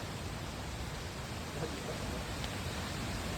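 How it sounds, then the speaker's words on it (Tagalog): Water flowing at Liwayway waterfall makes a steady, even hiss of rushing current, moderately loud and unbroken for a few seconds, with no voices. "Yung agos lang."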